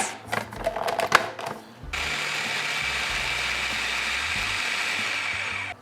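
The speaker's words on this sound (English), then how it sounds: "put them into a food processor. We want to process them into little bits the size of coarse breadcrumbs" Mushrooms being chopped in a food processor into coarse crumbs: a few short clattering pulses, then a loud, continuous whirring motor run that holds steady to the end.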